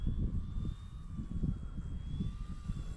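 An E-flite T-28 Trojan 1.2 m electric RC airplane flies past on a windy day, a faint steady motor whine with a slowly shifting pitch, heard over heavy low wind rumble.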